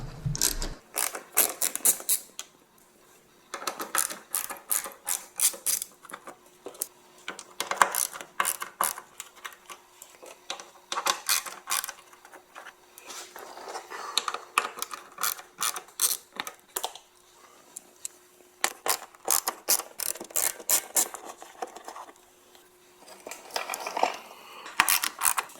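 Ratchet wrench backing out T30 Torx screws from the underbody cover of a Ford Fusion, heard as repeated bursts of close, rapid metallic clicking separated by short pauses, with no talk.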